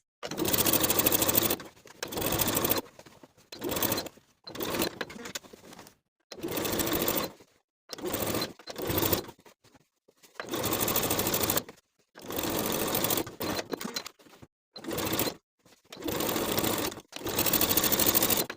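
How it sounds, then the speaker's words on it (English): Sewing machine stitching a facing on a pintuck poet blouse, running in many short, loud bursts with brief stops in between, close and alone. "your presser foot won't allow you to sew all the way to the corners, so stop your stitching and start again on the opposite side of the corner"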